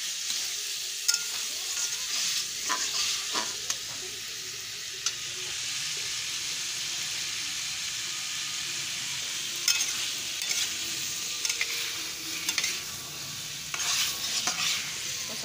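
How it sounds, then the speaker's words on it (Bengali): Kuche fish curry being stirred and sautéed in a pan, with a steady hiss of sizzling oil behind repeated scraping of a spatula. The sound is loud and close and lasts throughout, with no talking. "এবার এটাকে ভালো করে কষাতে হবে।"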